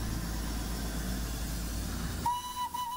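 The diesel engine of the Darjeeling toy train rumbles low and steadily at the platform, then a sustained whistle tone cuts in near the end.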